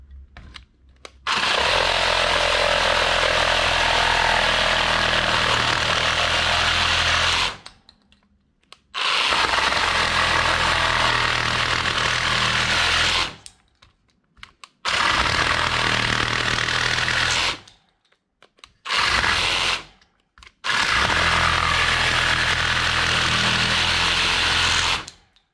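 A Parkside cordless sabre saw runs at full speed in loud, steady bursts of motor whine, switching on and off five times with short silent gaps between runs.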